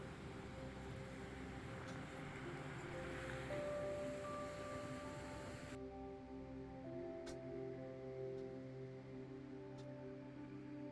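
Ocean surf at Tamarama Beach in Sydney on a chilly winter day, a steady broadband wash of waves with wind, shifting to a slightly thinner roar partway through, no voices.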